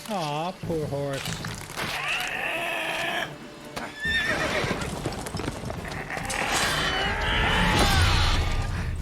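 A horse whinnies in The Witcher 3: Wild Hunt amid hoof clip-clops, game music and crashing effects, with speech over parts of it.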